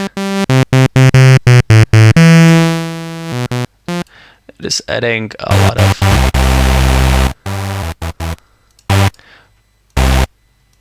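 Harsh, buzzy distorted synth notes in short choppy stabs and a few held tones, loud and gritty, with gaps of silence between phrases, driven by an overdrive distortion plugin's preamp.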